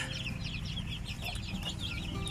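Chickens on a small farm, including a brooding hen, cluck in a soft continuous chorus of short overlapping calls, moderately close, over a constant low background hum with no talk.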